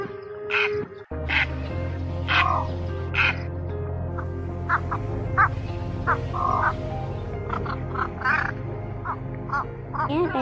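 Recorded egret and pond heron calls, covering cattle egret, cinnamon bittern and Chinese pond heron, played as a trapping lure: repeated harsh croaks and squawks over a steady low hum, fairly close and loud.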